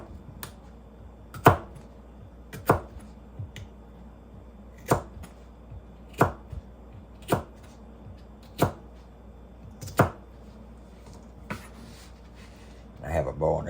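A knife slices through freshly picked garden vegetables in about ten sharp, evenly spaced cuts roughly a second apart, close and crisp against a quiet background.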